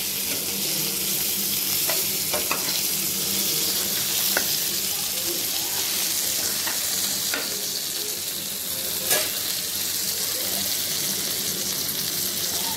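Bangda mackerel frying slowly over a low flame while being turned in the pan, a continuous even sizzle with occasional soft clinks and scrapes as the fish is flipped.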